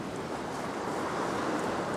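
Ocean waves wash over rocks along a coastline after a big swell, a steady, broad roar of surf and wind that fills the scene, with no voices.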